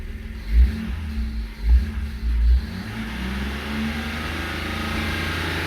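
A BMW engine with a 12-year-old injector revving, three short throttle blips that settle into a steady hold at about 3500 rpm, loud and close.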